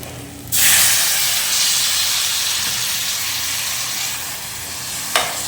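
Water hits hot frying chicken gravy in a pan, setting off a sudden loud hiss that holds as a strong, steady sizzle and eases slightly, with a brief clatter near the end.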